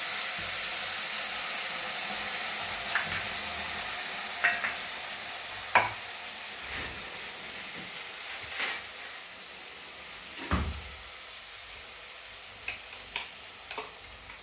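A purée of onion, garlic, ginger, coriander and tomato sizzles and fries in a hot pan while being stirred for chole, with a steady hiss and a few sharp scraping clicks, close and with no talk.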